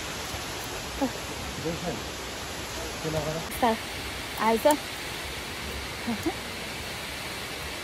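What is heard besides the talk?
water of Amicalola Falls waterfall flowing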